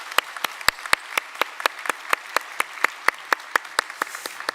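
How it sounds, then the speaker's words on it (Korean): A church congregation at a Wednesday evening service applauds together, producing a steady run of distinct, fairly loud claps spaced evenly across the whole stretch, with no talking over them. "우리 모두를 위해서 박수 한번 하도록 하겠습니다."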